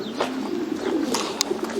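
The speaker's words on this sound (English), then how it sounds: "Now, these pigeons here," Pigeons coo inside a racing-pigeon loft in Milan. The soft, throaty calls repeat close by, with a few sharper bird sounds mixed in.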